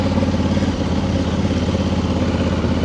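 A tractor engine runs nearby on the Colle delle Finestre mountain road in Italy, a loud, steady, throbbing low chug with no talking.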